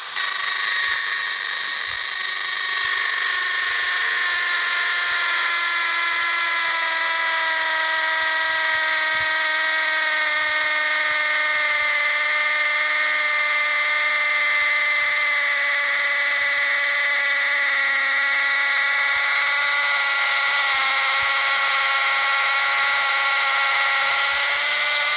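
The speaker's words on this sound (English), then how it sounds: "when you're drilling into the tree, you want to go about chest height" A power drill boring into an oak tree at chest height to take timber samples gives a continuous high-pitched whine with steady harmonic tones that slowly shift in pitch, loud and close throughout without a break.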